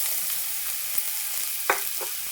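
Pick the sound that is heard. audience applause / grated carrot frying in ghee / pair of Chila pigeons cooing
grated carrot frying in ghee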